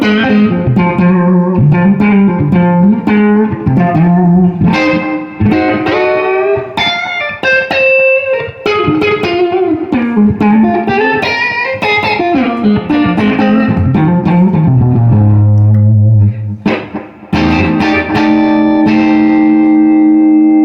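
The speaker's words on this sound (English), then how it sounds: "here's the naked 1968 Super Reverb amplifier." An electric guitar played straight into a 1968 Super Reverb amplifier with its bright switch off, ringing clean and full with lush reverb tails, chords and single-note lines running continuously and loud throughout.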